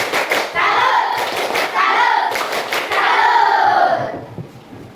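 Schoolchildren in a classroom performing a rhythmic clapping routine, chanting together between sets of sharp, patterned claps that come in three loud bursts before fading out.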